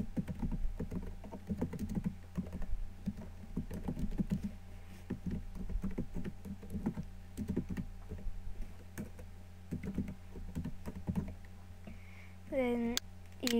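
A computer keyboard is typed on in quick, light runs of keystrokes, fairly quiet and close, over a steady room hum.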